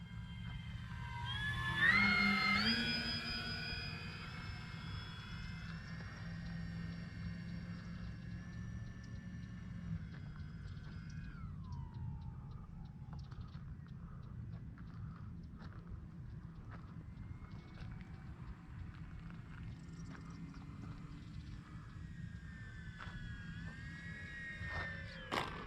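An E-Flite Beechcraft D-18 RC model airplane flies slowly past, its twin electric motors whining in tones that rise and then drop as it passes nearby, then fade to a steady distant hum outdoors over grass.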